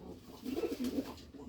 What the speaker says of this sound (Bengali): অনেক সুন্দর এক জোড়া কবুতর নর। দেখুন কবুতরটা